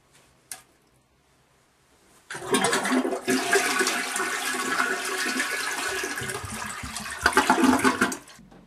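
A toilet flushes a dead goldfish away. After a quiet tick, a loud rushing flush begins and swirls for several seconds before draining off.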